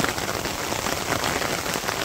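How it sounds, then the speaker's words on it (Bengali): Gentle rain falls steadily on a village in Bangladesh, a dense, even patter of drops on surfaces with a light breeze, continuous and close throughout with no voices. "খুব সুন্দর বৃষ্টি হয়েছে, ভদ্র বৃষ্টি"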